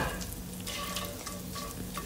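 Beef frying crispy in a hot pan with pepper and garlic, a steady loud sizzle with stirring noises, no voices.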